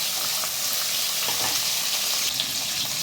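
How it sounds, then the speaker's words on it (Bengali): Close, steady sizzling of tomato frying in a pan with occasional scraping and stirring sounds, no voices present. "টমেটোটা একটু নাড়াচাড়া করে ভাজা করে নিতে হবে"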